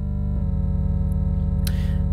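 An 8-bit triangle-wave synthesizer tone drones steadily on its own, shifting pitch slightly early on, with a short click near the end.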